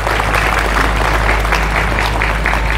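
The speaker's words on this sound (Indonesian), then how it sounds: "Tepuk tangan untuk Darussalam." An audience claps for an Islamic boarding school at a memorial gathering, rhythmic massed clapping over a loud low hum from the sound system.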